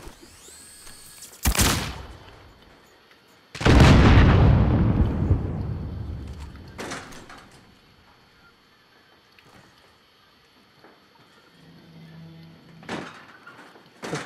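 Explosions from an AT mine and frag grenade in Call of Duty: Warzone on the Caldera map: a sharp blast, then a bigger, rumbling detonation with a long decaying tail, followed by smaller thuds and pops.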